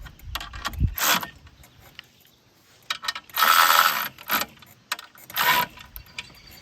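A ratchet with a 19mm socket tightens bolts on a Flyway 90 auto clay thrower, sounding as three short bursts of rapid clicking separated by quiet pauses, close and fairly loud.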